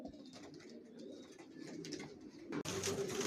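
Adult racing pigeons kept in stock coo in low rolling bursts that repeat quietly, then a brief clatter breaks in near the end.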